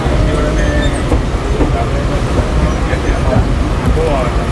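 Mumbai local train pulling into Bhiwandi station, a steady loud rumble with rail clatter and crowd noise, with people talking nearby.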